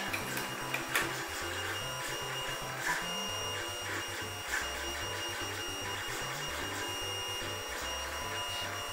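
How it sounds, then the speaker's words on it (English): 3D printer resuming a print, its stepper motors buzzing and humming in quick changing tones with a steady mechanical whir, at close range and with no one talking. "And there we go. We're printing again."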